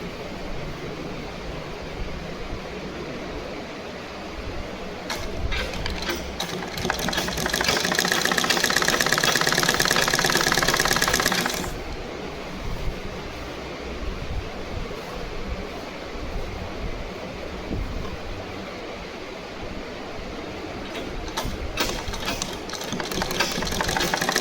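A sewing machine stitches a skirt onto a bodice in a steady mechanical whir that swells into a louder, faster burst of stitching for several seconds before easing back to a quieter hum.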